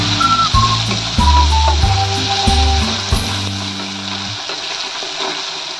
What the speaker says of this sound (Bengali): লবণ, হলুদ দিয়ে একটু ভেজে নেব।